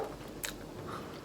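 A crunchy bite into the crispy ends of garlic bread, one short close crunch standing out against quiet room noise.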